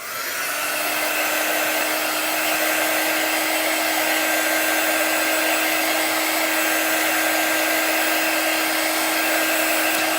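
Hair dryer blowing steadily and loudly over drying chalk paste on a craft project, a constant close whooshing hum with a high whine that runs unbroken throughout.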